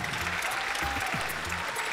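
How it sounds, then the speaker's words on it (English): An audience claps under a circus big top, a steady, fairly soft wash of applause with faint voice-like tones beneath it. "Give her a round of applause."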